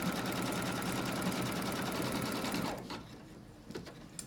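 An embroidery machine stitches a rectangle outline guide, a loud, fast, steady mechanical chatter running close by for nearly three seconds before stopping, followed by a few light clicks and handling sounds.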